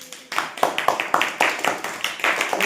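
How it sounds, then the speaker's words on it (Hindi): Classroom children clapping together in a string of about a dozen sharp, fairly loud claps with an uneven rhythm, some voices faintly mixed in. "ताली बजाओ के लिए।"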